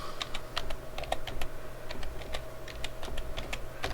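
Fast, uneven clicking of keys on a computer keyboard, close and clear, with a steady low hum underneath and no talking.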